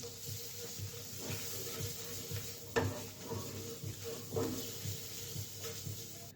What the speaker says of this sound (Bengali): বাটারটা মেল্ট হয়ে গেছে, তো 1 চামচ আমি ময়দা দিয়ে দেব। তো ভালোভাবে নাড়তে হবে।